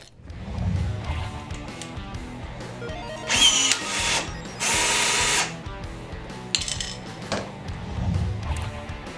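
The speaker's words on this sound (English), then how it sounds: "our brief introduction on the BT-2A Marson 16-volt cordless riveting tool" A Marson BT-2A 16-volt cordless riveting tool sets a rivet: a couple of sharp, loud mechanical bursts of whirring and snapping stand out close by over quieter clicks and handling noise.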